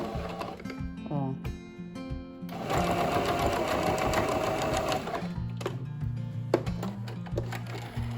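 An electric sewing machine stitches a fabric pouch, a sustained buzzing whir in the middle with short start-stop bursts and clicks at either side, heard up close.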